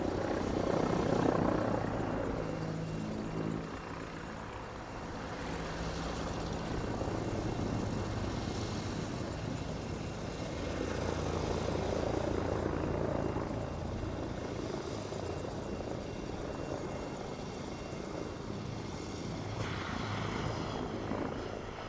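A T-129 ATAK attack helicopter flies at the Paris Air Show, its rotor and turbine drone continuous and loud throughout, swelling and easing slightly as it manoeuvres at a distance.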